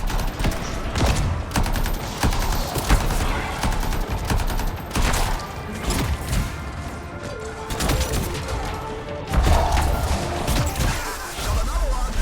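Rapid gunfire from the Anthem video game: dense bursts and repeated shots keep going the whole time, close and loud, with a few heavier crashes mixed in.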